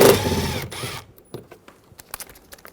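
Phillips head screws being removed from a Toyota Tacoma interior door panel, a loud ratcheting, mechanical whir up close at first, then fading into scattered soft clicks and taps.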